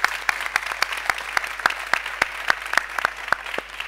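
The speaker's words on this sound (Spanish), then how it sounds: "un fuerte aplauso para los ponentes" Audience applause for the speakers at a talk about video games, a steady patter of moderate clapping from a small crowd with distinct individual claps.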